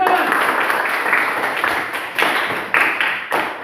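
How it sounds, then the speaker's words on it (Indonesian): Applause in a classroom lesson: dense, continuous clapping from a group, with a few sharper, louder claps standing out toward the end. "mantap, tepuk tangan"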